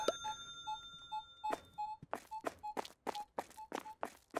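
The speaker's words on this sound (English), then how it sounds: "The beeping is getting to me." Repeated short electronic beeps from checkout scanning in the co-op store game Supermarket Together, a steady series of clipped tones with brief thumps between them, fairly close and clear.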